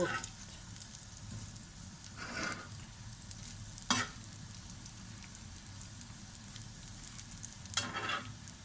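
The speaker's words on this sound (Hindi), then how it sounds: "अब इसका एक साइड फ्राई होगा तो फिर मैं दूसरे साइड पे चेंज कर दूँगी" Potato and chana dal kababs fry in a pan with a steady soft sizzle and crackle, broken by a few brief louder stirring or turning scrapes; no one talks.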